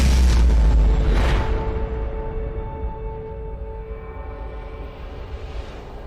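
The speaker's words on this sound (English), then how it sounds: "a massive star ends its life in a brilliant explosion" A supernova explosion sound effect opens with a deep, heavy boom, then trails into a long, low rumbling decay under a faint sustained tonal hum, with no voices.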